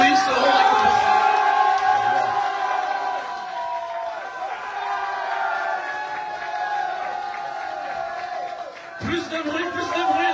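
Concert crowd at an outdoor show cheering, whooping and shouting to win the applause meter, a loud sustained roar of many voices with a brief dip before surging again.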